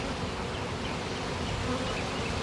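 A honey bee swarm buzzes in a steady, dense drone that fills the air continuously, close and even, with no voices.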